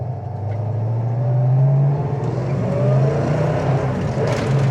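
A 1969 Ford Mustang Fastback with nearly every Mach 1 option drives along, its engine a loud, smooth, steady V8 drone that rises and falls gently with acceleration, close by and with no talk over it.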